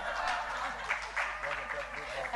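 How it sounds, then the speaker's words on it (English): An audience applauds an award winner at the 2019 GraceKennedy Household Worker Awards ceremony, a brief, moderately quiet patter of clapping heard from within the room. "Give her a round of applause."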